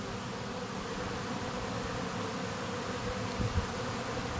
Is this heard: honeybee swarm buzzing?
yes